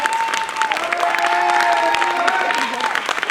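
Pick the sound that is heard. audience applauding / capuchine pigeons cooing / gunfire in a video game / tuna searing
audience applauding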